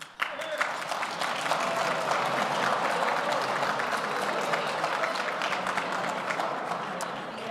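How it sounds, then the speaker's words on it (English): An audience at a luncheon honoring Immigration Minister Marco Mendicino applauds, a dense, steady wash of clapping that holds for several seconds before easing off, moderately close. "Audience members, please applaud after everyone's name has been called."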